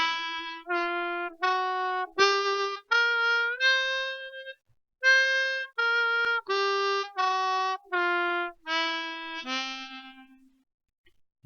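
A blues harmonica plays a blues scale note by note, including hole blows, draws and semitone bends, each tone clear and separate, with short breaks between the notes and no voice over them.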